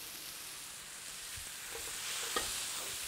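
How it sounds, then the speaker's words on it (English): Medium grain rice goes into a paella pan with canned garbanzos on a Saber infrared grill, under a steady, dense sizzle with a faint scrape or pour partway through and no voices. "I'm going to put in medium grain rice."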